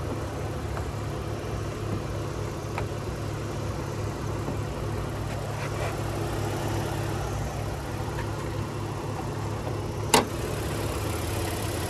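A steady, low 3.5-liter V6 engine idle from a 2025 Honda Pilot Sport AWD hums evenly throughout, with a faint mechanical whir and one brief sharp click near the end.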